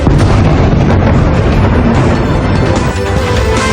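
Loud, continuous roar of missile explosions and blasts during an Iranian attack on Tel Aviv, Israel, at night, a dense rumbling wall of booms with no clear gaps between impacts.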